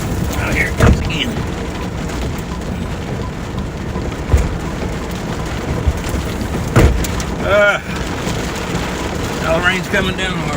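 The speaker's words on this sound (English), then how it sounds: "Now the rain's coming down harder again." Heavy rain pours down steadily during an Ohio thunderstorm, drumming on a storm-chasing vehicle in a dense, continuous wash, with a few brief louder bursts and faint squeaks over it.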